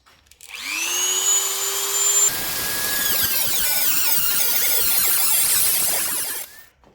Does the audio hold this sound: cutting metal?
yes